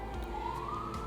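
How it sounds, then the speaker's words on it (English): An emergency siren wails in the background: a single rising tone sweeps upward, moderately distant and steady across the short stretch, with no talking. "Sirens in the background."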